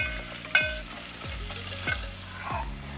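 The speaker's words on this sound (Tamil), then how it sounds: "இந்த புதினா கொத்தமல்லி ஃப்ரை ஆகும்போது" Mint and coriander fry in oil for mutton biryani, a soft close sizzle under repeated stirring strokes, with one or two sharper clinks from the spoon, and no one talking.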